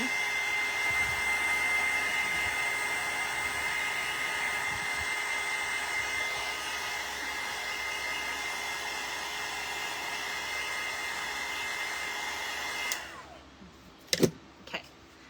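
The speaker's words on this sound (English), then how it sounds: "I'm going to go ahead and hit it with the dryer" A hair dryer blows with a steady whirring roar for a long stretch, then switches off, followed by a few brief clicks.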